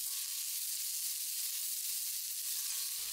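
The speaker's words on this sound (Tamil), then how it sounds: "வெங்காயம் சாஃப்ட் ஆகிற வரைக்கும் ஒரு 2 நிமிஷம் வணக்கி விட்டுடலாம்" Steady, hissing sizzle of onions sautéing in a pan, a continuous bright crackle with no talking.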